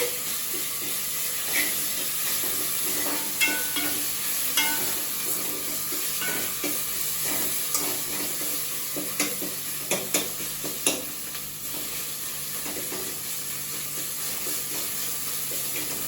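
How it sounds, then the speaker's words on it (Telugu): Masala curry frying in a pan with a steady sizzle, broken by scraping, clinking stirs that come in scattered bursts across the whole stretch, close and moderately loud, with no voices. "ఇది ఒక 1 మినిట్ ఫ్రై అవ్వాలి."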